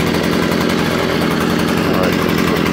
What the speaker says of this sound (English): Now you can barely hear them, and you can only hear the engine.